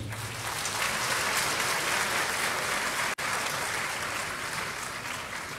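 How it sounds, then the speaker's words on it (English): At a KNUST graduation ceremony, a large audience applauds King Mswati III of Eswatini, giving sustained, even clapping with a momentary dropout midway. "Please applaud him."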